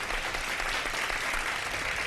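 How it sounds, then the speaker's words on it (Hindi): Studio audience applause on a live Ramadan iftar TV show during a prize presentation, a dense, steady wash of many hands clapping with no pauses. "बहुत सारी तालियां होनी चाहिए"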